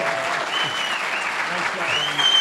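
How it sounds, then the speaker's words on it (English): Audience applause at a live congressional debate event, a dense steady wash of clapping that swells slightly toward the end, with voices mixed in beneath. "Can we give them one more round of applause"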